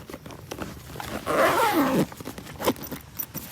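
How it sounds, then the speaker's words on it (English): A bug out bag is zipped shut, one long rasping zip lasting under a second, close and loud, set among softer rustling and handling noises. "Zip it up."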